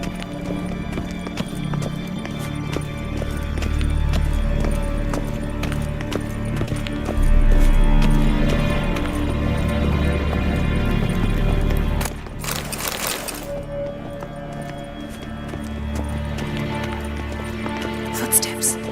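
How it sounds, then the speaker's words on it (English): Hooves clop steadily through a long stretch beneath a continuous tonal music bed, with voices also present. There is a sharp noisy burst about two thirds of the way in. "Footsteps."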